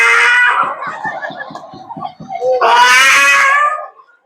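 A stage performer at a Ganesh mandal Home Minister competition mimics a coy, flirting cat with her voice: a run of short, pulsing mews, then a long, loud, wavering meow close to the microphone.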